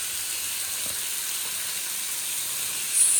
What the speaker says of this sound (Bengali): এই যে পমফ্রেট তাওয়া ফ্রাই বসিয়ে দিয়েছি